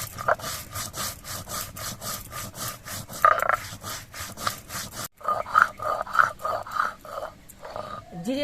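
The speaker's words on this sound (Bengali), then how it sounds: "এটা আমি মিহি করে বেটে নিয়েছি" Raw cumin seeds ground by hand into a fine paste on a stone, a rhythmic rasping back-and-forth rubbing repeated steadily, close and fairly loud, with a brief pause partway through.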